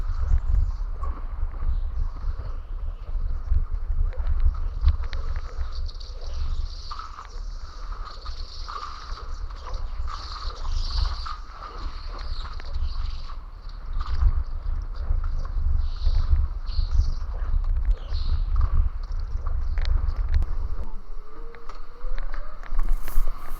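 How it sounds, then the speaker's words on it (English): Electric go-karts run on an indoor track with boost buttons, giving a steady high motor whir over a low rumble and wind buffeting of a moving onboard ride, continuous throughout. "You can hear the whir of those electric motors"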